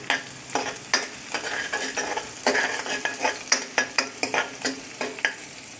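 Finely chopped ginger, garlic and green chilli fry in oil under a rhythmic run of spatula scrapes and stirs, each stroke a crisp swish over a steady close sizzle, with no voices.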